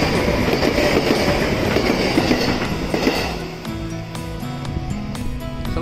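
A Sanyo Electric Railway through limited express train bound for Osaka rumbles and clatters steadily, wheels clacking on rails as it pulls away, the roar easing slightly midway; no talking.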